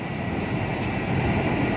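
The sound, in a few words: KRL commuter train at station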